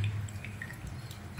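Water trickles and drips through the filter of a working model of a sewage treatment plant. Soft, scattered drops fall over a steady low background flow, close and fairly quiet.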